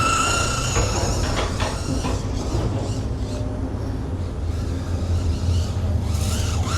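A Traxxas Mini Maxx RC car fitted with a gyro drives through frozen snow at 18°F, a steady whirring electric motor and drivetrain whine with crunching rumble, continuous and fairly close.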